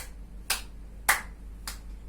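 Three sharp hand claps, evenly spaced about half a second apart, during a chest-stretching exercise, crisp and close against a quiet room.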